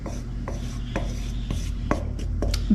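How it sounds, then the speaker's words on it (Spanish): Oat flour worked into tahini in a bowl, a series of sharp spoon knocks and scrapes at a steady pace of roughly two per second, close and clear over a low steady hum. "Vamos a empezar a mezclar la parte de harina"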